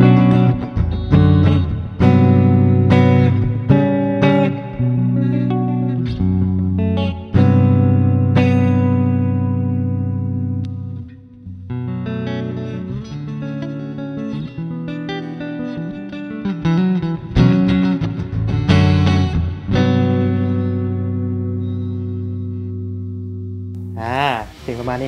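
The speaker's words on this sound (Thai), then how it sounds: "เดี๋ยวเรามาลองฟังเสียงของเจ้า Solar A17DLTD กันบ้างดีกว่านะครับไปเริ่มฟังกันเลย" A Solar A17DLTD seven-string electric guitar plays clean, ringing chords and single notes with effects, loud and close, with sustained tones and brief pauses between phrases.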